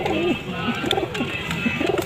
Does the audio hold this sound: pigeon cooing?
yes